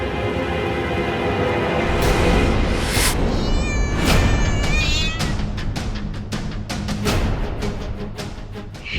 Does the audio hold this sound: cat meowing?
yes